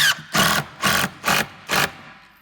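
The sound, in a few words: screws being wound into a skate ramp panel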